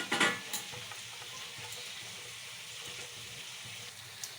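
Ground spices, including chili, cumin, coriander, black pepper and Kashmiri red chili powder, sizzle and fry in a pan for egg curry with a splash of water, stirred with scraping strokes. Quiet, close sizzling with a few louder stirring knocks near the start.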